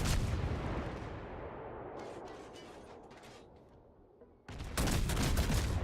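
Repeated naval gunfire from World of Warships battleships and destroyers, a dense rolling barrage of booming salvos that fades slightly, then a fresh loud volley of close, crackling shots bursts in near the end.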